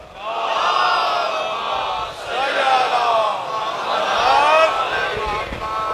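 A large crowd at a Muharram majlis loudly recites salawat in unison, a swelling chorus of voices that rises, briefly dips near the middle and surges again.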